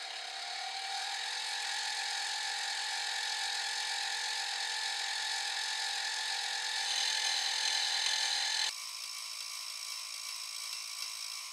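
A saw cuts bicycle seatstay tubing at high gear and high RPM, a steady, loud whine with a faint chattering edge. Its pitch and tone shift abruptly near the end, with no voices.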